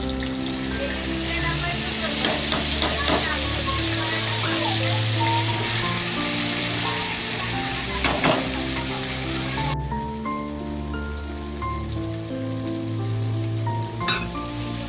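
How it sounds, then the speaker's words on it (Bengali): Potatoes fry in a pan and are stirred, giving a continuous close sizzle with scraping stirs, over a steady tonal background that sounds like music. "আলুটা নেড়ে দিয়ে ভাজা হয়ে গেছে"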